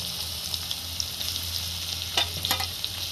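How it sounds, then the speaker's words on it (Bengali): Garlic cloves sizzling in hot oil for khichdi, a steady close frying hiss with a few sharper crackles and pops partway through, no talking. "এই তেলের মধ্যে দেখুন রসুনগুলো আমি দিয়ে দিচ্ছি"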